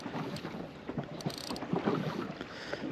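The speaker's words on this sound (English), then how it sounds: "I don't even know it was meant to be this windy out here today" Wind gusts over choppy water on Lake Macquarie, buffeting the microphone from a small fishing boat, with soft splashing and rustle at a steady, moderate level.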